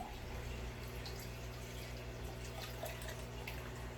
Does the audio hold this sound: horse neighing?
no